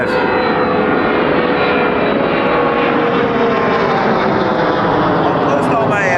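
An Air Transat Airbus A321neo at Toronto Pearson Airport at night gives a loud, close, steady jet roar that holds unbroken throughout, with a broad rushing whine.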